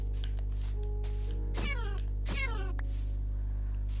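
Two short meows from a cat in Minecraft, spaced about a second apart over a steady low game hum.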